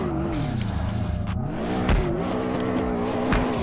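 In the DRIFT21 racing game, a boxer-engined AE86 spins out while drifting: a loud sustained engine drone with shifting revs and squealing tires sweeping around through the turn.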